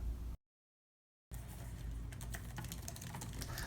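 Someone types quickly on a Bluetooth keyboard paired with a Windows tablet, producing crisp, dense key clicks. A brief silent gap breaks the typing before the rapid clacking resumes.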